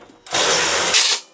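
A power tool, probably an impact driver, works on bolts at a 2006-2013 Toyota Corolla headlight. It gives one loud, close burst of rapid mechanical chatter under a second long, with a short surge near the end.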